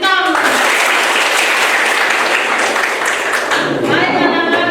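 Children in a classroom clapping together in a loud, dense burst that stays steady for several seconds.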